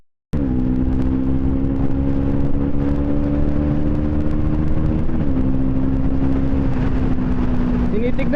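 Loud twin exhaust on a Bajaj Pulsar NS200 motorcycle, a close, steady droning rumble with slight pitch shifts as the bike cruises, starting abruptly after a brief silence.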